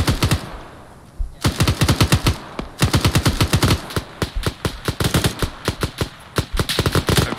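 Loud, close machine-gun fire in a military video game set during the Grenada operation crackles in rapid repeated bursts with brief pauses between volleys.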